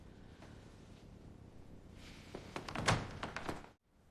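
Knocking on a flat door: a few sharp raps close by on a hard wooden surface after a quiet, faintly rustling lead-in, ending abruptly in silence.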